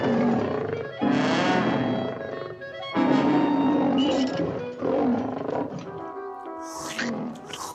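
Cartoon tigers roaring at feeding time, several loud, close, drawn-out roars in overlapping bursts, with a voice briefly mixed in.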